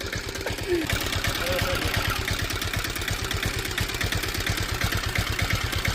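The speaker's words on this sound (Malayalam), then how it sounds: "ഇതാണ് നമ്മുടെ എഞ്ചിൻ്റെ ടോട്ടലി ഒരു വർക്കിംഗ് കണ്ടീഷൻ" A converted auto-rickshaw engine runs as an aerator for a fish pond, chugging in a fast, regular rhythm of close, loud pulses that hold steady for the whole stretch.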